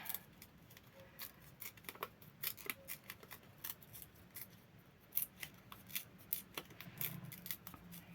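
Paper torn by hand for a handmade travel sketchbook, producing a quiet series of short ripping and crackling bursts, close up, with brief pauses between tears and no voice.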